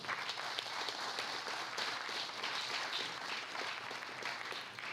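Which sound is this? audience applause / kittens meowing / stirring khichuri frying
audience applause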